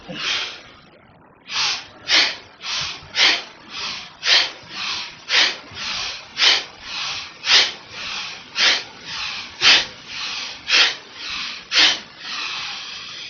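Repeated audible exhalations during a yoga warm-up, about seventeen steady breaths out in a regular rhythm, close and fairly loud, with no talking over them.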